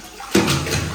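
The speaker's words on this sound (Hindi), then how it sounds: "ये पानी भर के निकाला है" Water pours out suddenly in a rural home as a container is emptied for washing the floor, a gushing splashing stream that starts abruptly and continues at a steady level.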